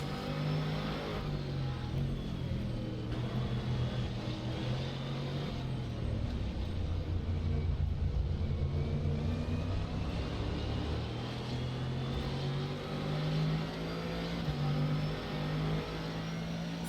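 A Callaway C7 GT3R race car engine in rFactor 2 at Zandvoort drones steadily and loudly, its pitch dipping and rising through a corner and then climbing again as it accelerates.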